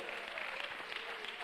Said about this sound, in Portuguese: Uma salva de palmas damos a Cristo.